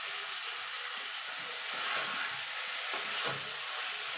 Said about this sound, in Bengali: মিনিট খানিক ধরে এইভাবে আলু আর মশলাটা কষিয়ে নেব